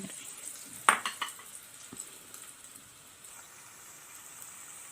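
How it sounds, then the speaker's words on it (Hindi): Crumb-coated aloo tikki cutlets frying in a pan: a sharp metallic clatter of utensils, a few lighter knocks, then a faint, steady sizzle. "इसको मैं फ्राइंग के लिए रख रही हूँ"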